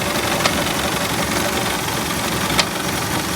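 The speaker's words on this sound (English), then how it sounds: "the AC compressor's making some not so happy knocky noises" Idling engine of a 1968 Ford LTD with its AC compressor knocking, a steady close rumble with two sharp knocks about two seconds apart rising above it.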